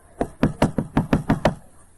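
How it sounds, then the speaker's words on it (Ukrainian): Eight sharp knocks on a door in a steady, quick rhythm, close and fairly loud, then quiet. "Стучи ему в двери, хай просыпается."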